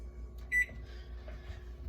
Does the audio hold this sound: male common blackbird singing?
no